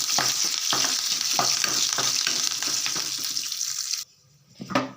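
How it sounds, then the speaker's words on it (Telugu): Tempering spices with curry leaves and dried red chillies sizzle and crackle loudly in hot oil while being stirred, the frying hiss cutting off abruptly near the end. "ఇవి ఫ్రై అయిన తర్వాత కరివేపాకు ఎండుమిర్చి వేసుకొని ఒకసారి ఫ్రై చేసుకుందాం"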